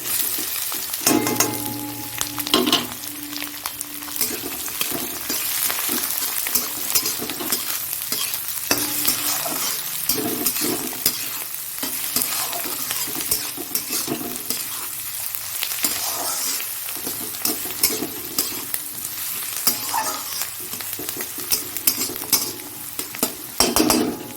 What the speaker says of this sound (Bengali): এবার এটাতে দেব পেঁয়াজ আর লঙ্কাটা